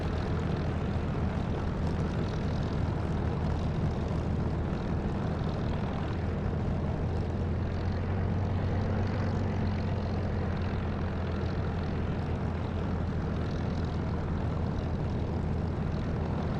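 A fixed-wing aircraft's engine roars steadily at takeoff in a DCS or War Thunder flight sim, a loud continuous drone with a low hum that holds through the whole stretch, no voices.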